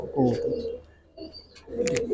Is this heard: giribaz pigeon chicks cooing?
yes